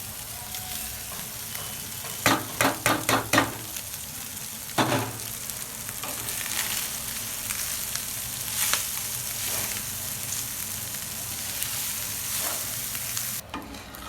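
Leftover cooked white rice being stir-fried in a pan, with a steady sizzle throughout and a few sharp scraping clatters of the spatula clustered early, then softer stirring strokes.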